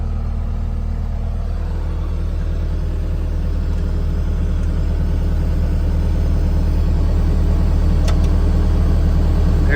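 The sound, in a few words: Bobcat S250 skid steer running its hydraulics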